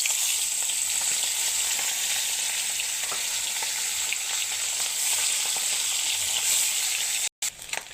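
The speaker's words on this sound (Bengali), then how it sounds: "তেলও গরম হয়ে গেছে। এবার ট্যাংরা মাছ এগুন ভাজি গেলাম।" Tangra fish frying in hot oil produce a loud, dense, continuous sizzle with steady crackle throughout, close up and alone, broken only by a momentary cut near the end.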